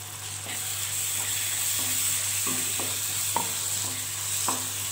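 Steady frying sizzle of mint and coriander paste in chicken dum biriyani, with a spoon scraping and stirring through the pan in repeated strokes, close and continuous.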